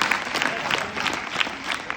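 A short burst of clapping from a crowd of schoolgirls at a government girls' senior secondary school legal awareness event, brisk and fairly close, with a voice audible over the applause.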